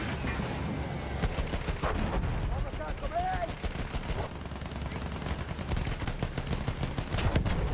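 Battlefield 1 gunfire rattles in quick bursts and scattered shots under continuous game noise, moderately loud, while players talk over it.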